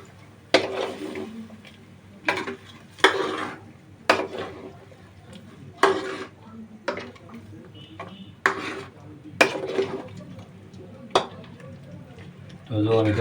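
A spoon stirs desi chicken curry with onion paste in a pot, giving repeated sharp scraping knocks against the metal every second or so, with a person talking between strokes.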